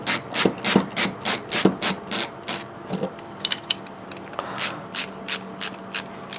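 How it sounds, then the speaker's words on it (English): A hand screwdriver clicks and ratchets in quick rhythmic bursts while driving screws on a Voron V0.2 3D printer build, a fast run of strokes followed by slower, sparser turns. "Nobody ever died just having to turn a screwdriver, probably."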